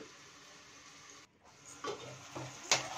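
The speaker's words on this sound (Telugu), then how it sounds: "ఈ విధంగా మూత పెట్టేసుకొని సిమ్లో కొంచెంసేపు వేగనివ్వండి" Ridge gourd curry fries in a covered pan over low heat, giving a soft, steady sizzle that briefly drops out, then returns with a few light lid or pan knocks near the end.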